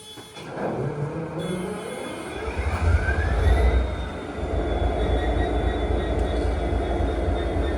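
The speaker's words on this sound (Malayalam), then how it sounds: "ലോക്കോമോട്ടീവ് ഇപ്പോൾ ഓണാവും." A railway locomotive at Kankesanthurai station in northern Sri Lanka powers up, a deep diesel rumble rising and settling into a steady drone, with a thin whine and faint metallic squeal over the near, continuous engine noise.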